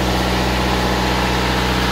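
An Onan DJC diesel generator set runs unloaded nearby, giving a loud, steady idling drone with a constant low hum and no change in pace.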